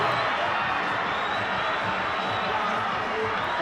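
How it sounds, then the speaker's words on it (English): A crowd roaring at a rugby match between Saldanha and Gardens after a last-minute try, a dense sustained cheer with scattered whoops, while a commentator talks over it. "Listen to the crowd."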